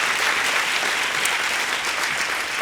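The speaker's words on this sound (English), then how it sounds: "A round of applause for these financial partners." Audience at a sports awards ceremony applauding sponsors, a continuous, even wash of many hands clapping at moderate level, with no one speaking over it.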